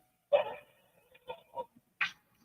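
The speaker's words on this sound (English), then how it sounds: "A dog began to bark" A dog barks a few times at moderate distance, one sharp bark followed by a couple of shorter, softer yips and a final bark, with quiet between.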